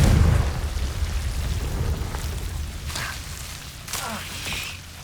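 A Confringo fire spell from Hogwarts Legacy goes off in a loud, rumbling blast, with a couple of crackling bursts trailing after it as the low roar fades.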